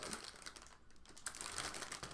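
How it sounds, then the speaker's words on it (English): Crisp plastic crinkling from a bag of knitting yarn, handled close by in bursts of rustling with a short pause midway, no voices. "I'm sorry if the crinkling is really, really annoying"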